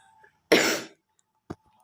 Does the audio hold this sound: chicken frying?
no